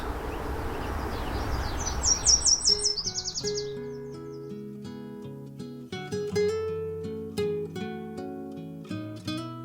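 A yellow warbler gives a brief, bright, high warbling phrase over a noisy background, then soft melodic tones take over for the rest of the clip.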